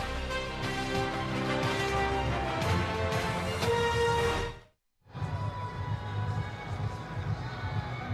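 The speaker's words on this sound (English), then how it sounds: "Crowd having fun." Crowd at a chilly college football bowl game in Boise, the Idaho Potato Bowl between Buffalo and San Diego State, a steady roar of fans broken by a brief drop to silence before it resumes, with a commentator talking over it.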